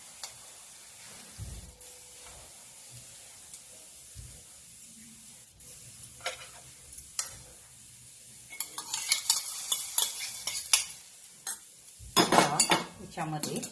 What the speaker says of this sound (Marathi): हे मिश्रण याच्यावर ओतायचं.